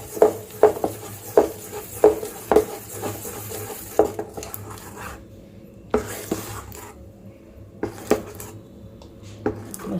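Orange cake batter is stirred in a metal pan, the spoon scraping and clinking against the sides in a steady, repeated rhythm of sharp knocks, close and clear with no talk.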